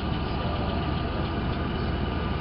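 An old barn-find vehicle engine, recently fitted with a new fuel filter after sitting unused for years, runs steadily at idle with a low, continuous rumble and no pauses, close by and fairly loud.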